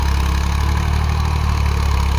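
A 2022 Sonalika 480 tractor engine idles close by with a loud, steady low rumble and an even throb, with no voices.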